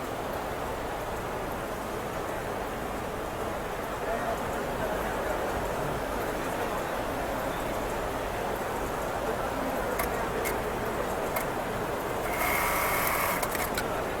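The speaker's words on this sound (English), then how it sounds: "It's the bar tack operation." Automatic bar tack sewing machine stitching jeans, a steady whirring drone running throughout, with a brief louder burst of mechanical rattle near the end.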